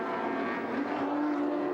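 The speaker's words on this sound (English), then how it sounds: "Driving the wheels off the Nissan GTR today." A Nissan GTR race car drives at Bathurst, a continuous loud engine roar with a slowly rising tone and no break.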